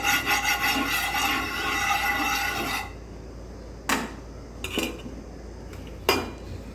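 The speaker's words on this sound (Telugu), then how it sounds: "ఇప్పుడు స్టవ్ మీద ప్యాన్ పెట్టి కొంచెం ఆయిల్ వేసి స్టవ్ హీట్ ఎక్కేదాకా కొంచెం తిప్పుతూ ఉండండి" A pan heated with a little oil on a stove, stirred with scraping and rubbing against the pan for the first few seconds, followed by a quieter stretch broken by three sharp metallic clinks and knocks.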